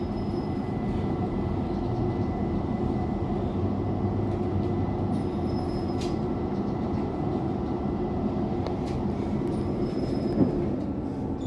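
A London Overground train runs with a constant loud rumble and hiss, faint wheel squeal rising now and then over the steady rolling noise.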